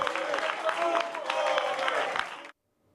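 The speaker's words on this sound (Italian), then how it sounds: "Alla fine i consiglieri di maggioranza si sono alzati ad applaudire il sindaco" Majority council members applauding the mayor at a tense extraordinary city council session, dense steady clapping from a group that cuts off abruptly into silence.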